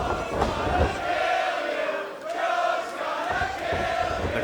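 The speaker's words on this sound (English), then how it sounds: "The crowd firmly behind Samoa Joe." A loud wrestling arena crowd at a Ring of Honor match cheers and roars in rolling surges, dipping briefly in the middle before swelling again, with shouts rising out of the din.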